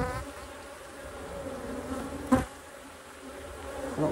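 Honey bees hum in a steady, close drone at an open hive during a mite check of nurse bees on a brood frame, with one brief louder knock partway through.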